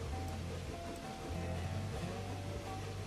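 A steam locomotive's cylinder cocks venting in a train simulator game, a continuous rushing hiss of steam over a low mechanical drone, steady and close for a few seconds.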